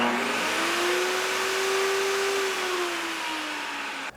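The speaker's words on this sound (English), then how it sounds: "what happens if we try the table saw and the vacuum at the same time?" A table saw and a vacuum cleaner run together off a Jackery HomePower 3600 Plus portable power station, giving a loud, steady motor whine that rises slightly in pitch, holds, then sags toward the end, with no talking.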